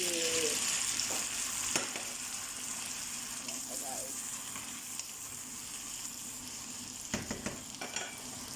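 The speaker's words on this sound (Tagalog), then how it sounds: "Lagyan na natin ang ating kamatis." Tomatoes go into a frying bitter gourd dish, giving a steady close sizzle throughout with a few clinks and stirring scrapes, and a voice speaks faintly underneath.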